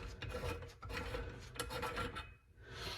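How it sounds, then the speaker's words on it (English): A sink drain stopper is unscrewed while a Moen Gibson spread faucet is installed, giving close, repeated rasping and scraping twists of threaded parts that pause briefly and then resume. "So we're going to unscrew this."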